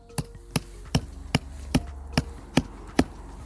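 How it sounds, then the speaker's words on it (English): A rebar tent peg being hammered into the ground while pitching a bell tent: eight sharp, evenly spaced strikes about every half second, close and distinct, with no talking. "When hitting in your peg"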